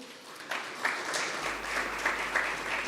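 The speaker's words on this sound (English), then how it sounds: "Can we please give him a round of applause, ladies and gentlemen?" Modest applause at a live tournament draw event, a soft, fairly distant patter of clapping with a few sharper claps rising out of the steady wash.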